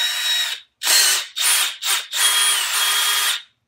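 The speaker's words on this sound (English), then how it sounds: "Drill a hole the same size as our screw." A power drill bores a hole for a screw while making rail spike hangers: several loud, whining bursts of the motor, each a second or so long, separated by short pauses, heard up close with no talking.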